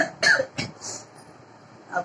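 A man coughs in a few short, harsh bursts, two close together and another after a pause, with nothing else heard between them.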